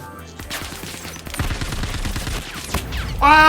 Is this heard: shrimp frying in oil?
no